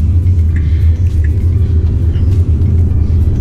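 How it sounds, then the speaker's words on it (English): A Tesla Model X electric car accelerating gives a steady, loud low rumble of road and drivetrain noise from inside the cabin, with no engine roar and no talk. "that acceleration in this car is just, feel it in your bones"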